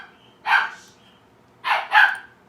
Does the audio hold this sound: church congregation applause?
no